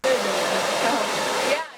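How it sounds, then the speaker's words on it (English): A blow dryer runs at full power in a cosmetology program, a loud, steady, close whoosh that starts abruptly and holds evenly for nearly two seconds before fading. "For most people, that's the sound of a blow dryer."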